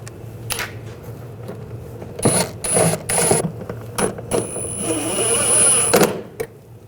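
Ratcheting and clicking of hand tools driving screws near the fender well while fitting a turbocharger with exhaust manifold on a 2009-2017 Volkswagen Tiguan, short bursts of mechanical clicks separated by pauses.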